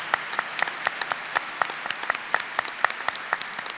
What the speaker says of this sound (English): Please give a round of applause to all of these honored guests who are here.